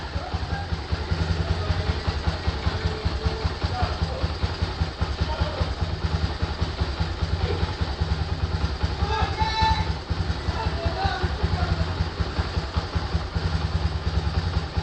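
A Bajaj Boxer X150 motorcycle engine, just after an oil change, idles steadily nearby for several seconds, its rapid even putter continuing without pause.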